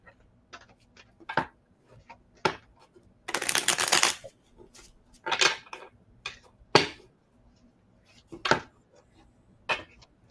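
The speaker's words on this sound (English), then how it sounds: "I'm shuffling extra for you, Scott." Playing cards being shuffled repeatedly up close for an intuitive card reading, crisp riffles and snaps in irregular bursts, with one longer riffle partway through.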